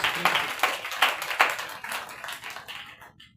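A church congregation claps in a steady rhythm during a worship service, about two or three beats a second, loud at first, then fading and trailing off to silence with no voices on top.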